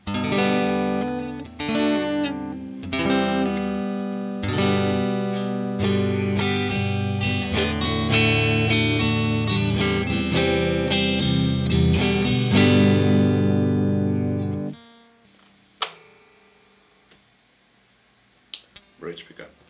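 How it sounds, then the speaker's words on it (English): A Fender Jazzmaster Vintera 60's electric guitar on the neck pickup with a clean tone plays a steady run of chords and notes, loud and close, then stops and leaves a few faint plucks and taps near the end. "and neck pickup, clean tone."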